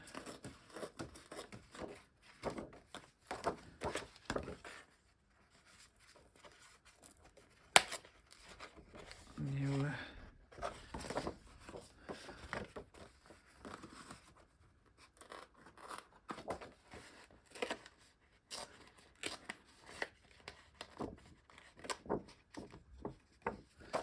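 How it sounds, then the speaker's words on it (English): Paper being torn by hand for a mixed media art piece, with soft, irregular rips and rustles between quieter pauses, close up and fairly faint, and no one speaking. "So again, I will tear here."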